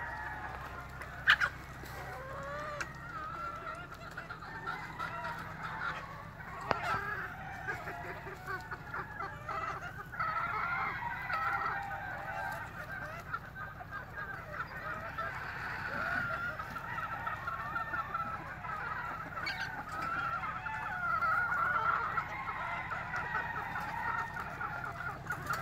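Chickens and fowl clucking steadily at a farm, with bird calls recurring throughout over a low background hum, fairly close and continuous.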